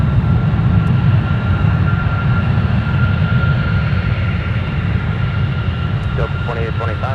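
A Delta Airbus A321 landing at MSP airport in winter, heard as a steady, loud broadband jet roar with heavy low rumble that holds constant throughout, with a faint voice breaking in near the end.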